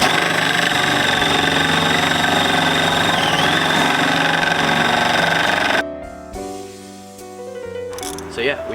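A drill with a long, fat bit bores holes in the body of a 2005 Toyota Corolla to mount a T Sport rear wing, a loud continuous whirring drone that stops abruptly, leaving quieter clatter and handling sounds.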